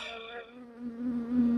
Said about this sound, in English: you've got bees hammering you